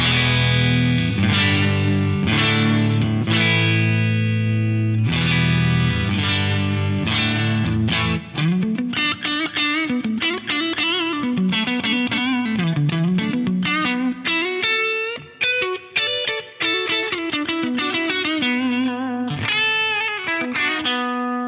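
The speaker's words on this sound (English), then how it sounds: "the one that I've been digging a lot is the Studio Feedback Compressor number 1" Electric guitar run through an Axe-Fx III Studio Feedback Compressor, fat sustained chords at first, then a fast, punchy single-note lead line with bends and distortion, loud and continuous without any voices.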